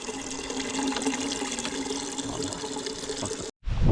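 Clear spring water flows and splashes steadily close by, a continuous bright gurgling stream that cuts off abruptly near the end.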